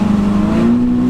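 A car engine held at steady revs during a first drift lesson, a loud close drone whose pitch climbs slightly toward the end.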